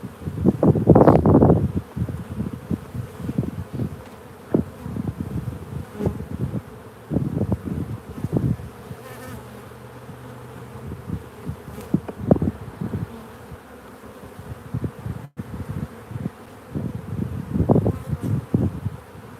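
Bees buzz around an open beehive during an inspection, a steady insect drone with louder swells near the start and end as bees fly close to the microphone, over light rustling and wind noise.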